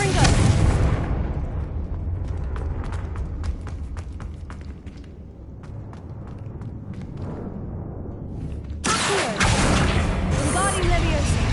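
A Confringo blasting spell explodes in Hogwarts Legacy: a loud burst opens, a long rumbling, crackling decay follows, and a second heavy blast erupts near the end.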